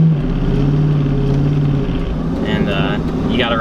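Engine of a 500 whp Terminator Cobra revving steadily while the clutch is ridden, a loud continuous low drone held near, with a person talking over it.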